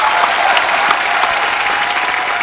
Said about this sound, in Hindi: जैस्मिन के लिए जोरदार तालियां